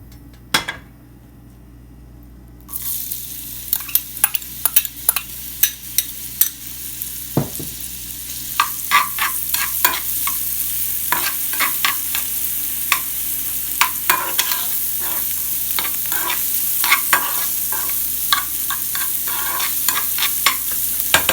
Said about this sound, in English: I like adding it when I'm frying or sauteing my onions